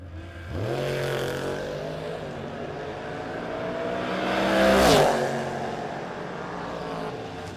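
A 1968 Dodge Dart launching off the drag strip start line in a no-box shootout against a 4th gen Camaro, loud engine roar climbing in pitch as the car pulls away, swelling to a close pass before fading.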